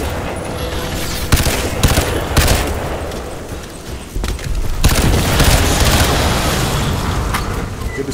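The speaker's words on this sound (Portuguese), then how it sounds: "A explosão matou ele." Explosions and bursts of gunfire from the shooter game Crysis 2, a dense, loud battle din with heavy booms and rattling shots that swell and ebb throughout, and a voice briefly audible at times.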